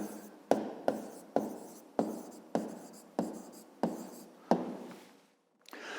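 Pen strokes writing by hand on paper, a steady series of about eight distinct scratchy strokes in an even rhythm, close and clear, with a brief pause near the end.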